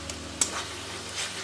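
Liquid jaggery and sugar are stirred into a coconut filling in a pan, giving a soft steady sizzle with a couple of light scraping knocks, close up and without speech.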